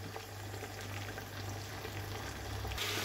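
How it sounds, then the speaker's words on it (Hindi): Tomatoes frying in a pan, meant for chicken keema, give a steady close sizzle with a low hum underneath, holding level for the whole stretch with no talking. "अभी हम टमाटर को थोड़ी के लिए पकने देंगे।"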